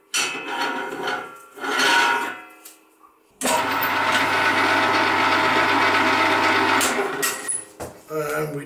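An electric meat grinder fitted with an 8 millimeter plate grinds meat, starting abruptly with a loud, steady motor whir that runs for a few seconds and then stops, with brief handling noises before and after.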